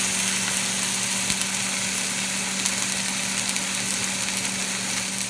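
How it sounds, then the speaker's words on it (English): A big chunk of beef seared in a hot pan on all sides gives off a steady, close, even sizzle with a faint background hum and a few small clicks. "you're going to take a big ass chunk of meat, you're going to sear it up on all sides."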